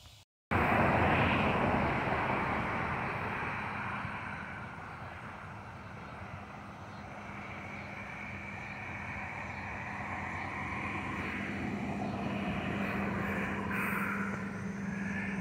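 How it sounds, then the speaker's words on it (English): Small airplane flying over water at sunset, a steady droning engine that holds at a moderate distance for the whole stretch, with no talking. "Here's your little plane."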